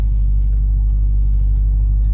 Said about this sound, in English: I gotta dodge this traffic real quick